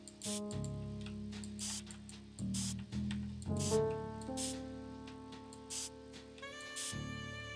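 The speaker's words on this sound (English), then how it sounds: "I love that it's powder, but it makes the noise of a spray can." In the video game Frog Detective 3, clue detecting powder makes a spray can sound: a series of short, bright hissing bursts over light music and chiming tones.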